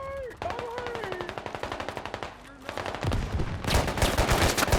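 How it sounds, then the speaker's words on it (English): Rapid gunfire from a BMD firing fragmentation rounds in the Squad military shooter game, urban combat setting: a steady burst of evenly spaced shots, then louder, denser blasts and explosions toward the end. "BMD blasts them with the fragmentation rounds."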